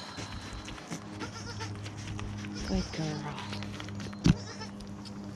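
Several newborn baby goats bleat in short, high cries scattered among farmyard noise, with a person speaking briefly nearby.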